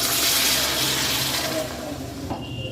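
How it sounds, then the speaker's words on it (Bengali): Hot water poured onto spiced potatoes in a pan while cooking aloo dum, a loud steady splashing pour that eases off and stops near the end. "এবার এতে আমি অ্যাড করছি গরম জল।"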